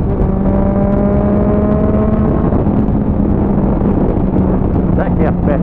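A motorcycle cruises in fifth gear on a road, its engine a steady drone under heavy wind rush. Riders talk over it.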